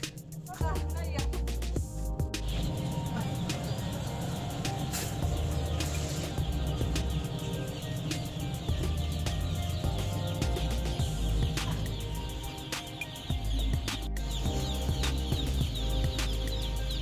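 Many chicks cheep constantly in a dense, high-pitched chorus inside a poultry production shed in Chelyabinsk, with occasional clucks from nearby birds and talking over the top.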